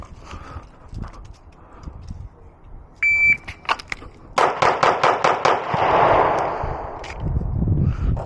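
Glock pistol shots fire in a timed shooting drill: one isolated crack, then a fast evenly spaced string of about six sharp, loud reports, with ringing and range noise between.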